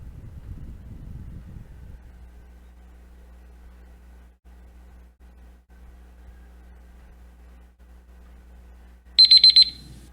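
A countdown timer alarm goes off in a quiet room during a timed math exercise, a short burst of rapid, high electronic beeps near the end after a long stretch of near silence and brief early speech.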